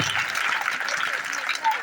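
Schoolchildren at a Mathematics Day school program give a round of applause, a dense, moderately loud patter of many hands clapping continuously, with a voice speaking over the clapping.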